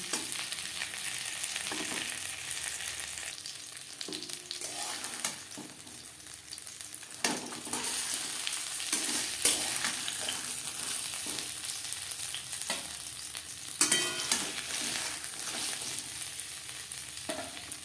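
Crispy coated fish frying in oil makes a continuous close, bright sizzle, with occasional soft clicks and scrapes as the pieces are turned, and no voices.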